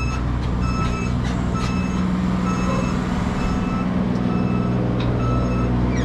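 A truck on a lot-clearing job with an excavator sounds a steady series of high reversing beeps over a constant, loud diesel rumble.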